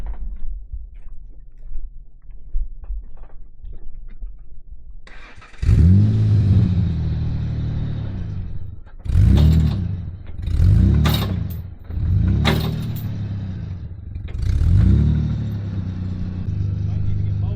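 An abandoned 1970s Ford F350 pickup engine rumbles close by and revs up repeatedly in several surging bursts after a quieter start, with some clattering underneath.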